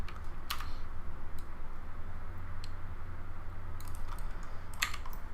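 Steady, fast typing on a loud computer keyboard used for typing rather than gaming, close up, with continuous clacking keystrokes and a few sharper clicks over low room hum.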